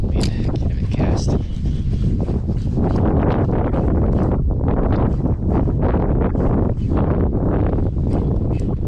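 Strong wind buffets the microphone on a windy morning of bass fishing from a boat, a loud, constant rumbling roar with gusty surges throughout.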